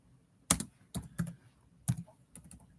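Close, distinct keystrokes on a computer keyboard come in five short separate bursts of tapping against a quiet background.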